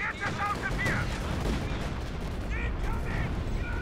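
Tank gunfire in Company of Heroes 2 in a battle involving T-34s and Panthers: booming shots and explosion rumble throughout, with a commentator talking over the fighting.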